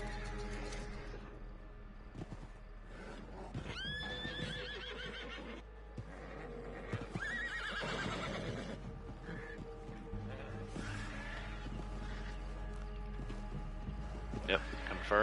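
A horse in Red Dead Online neighs loudly several times, with clip-clopping hooves and a steady low background hum, while a person talks over it.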